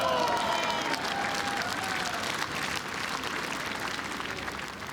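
Spectators at a lawn bowls women's pairs final clap and cheer, a moderate crowd roar with scattered claps and a whistle-like voice early, fading gently over a few seconds.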